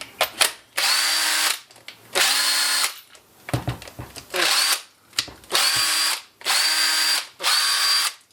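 An old electric drill, just repaired after letting out smoke, whirs in five or six short, loud bursts, each lasting about a second, with brief clicks and handling noises between them.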